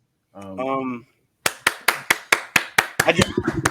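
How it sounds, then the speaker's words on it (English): A pair of hands claps close by, about nine sharp, evenly spaced claps that quicken into a faster flurry at the end, following a short burst of voice at the start. "He's clapping."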